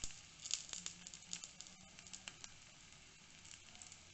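Green gram batter frying in hot oil on a tawa, a quiet, steady sizzle with scattered crackles and pops.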